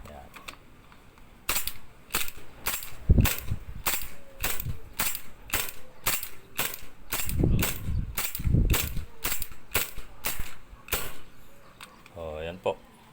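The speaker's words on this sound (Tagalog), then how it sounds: "Pareho na po silang pumuputok." An airsoft gun fires a long series of sharp, evenly spaced pops, about twenty shots in steady rhythm, close and loud, while someone talks quietly in the background.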